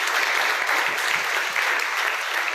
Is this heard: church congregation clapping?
yes